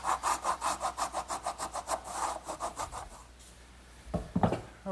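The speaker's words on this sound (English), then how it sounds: "And now a little bit of work with a wood rasp, and that'll finish up the inside of this mortise." A wood rasp works the inside of a hardwood mortise in quick, regular scraping strokes, faint and close, which fade out before a few soft knocks and handling sounds at the end.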